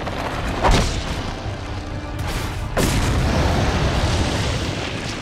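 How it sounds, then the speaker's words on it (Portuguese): Heavy shotgun blasts from Resident Evil 4, two sharp booming reports spaced about two seconds apart, loud and close with a lingering rumble over dense game ambience. "Acerta o tiro de shotgun no olho do bicho."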